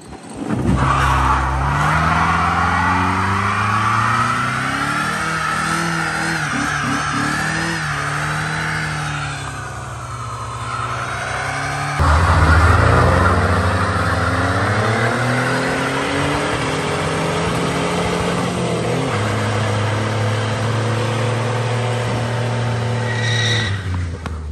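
A Dodge Neon demolition derby car is dragged along by chains hooked to a large machine, with a loud, continuous grinding scrape and engine drone. The pitch shifts partway through, and no one speaks.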